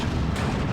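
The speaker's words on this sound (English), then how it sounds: "These mortars shoot so much." A mortar shot in the World War II strategy game Steel Division 2 lands as a single short, dull boom with a rumbling tail, loud and close, with no voices.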